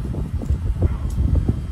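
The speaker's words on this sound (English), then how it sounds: "I'm sorry about the wind. It's very windy here." Low, gusty wind rumbles against the microphone outdoors near traffic in uneven bursts, loud and close.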